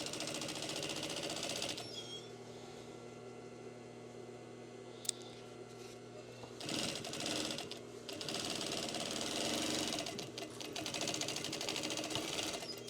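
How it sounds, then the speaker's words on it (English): A sewing machine runs a 3/8 inch side seam on a waterproof laminate dry bag with a steady, rapid mechanical hum, close and fairly quiet, pausing briefly before starting again. "we're going to do a 3/8 inch stitch all the way down the side"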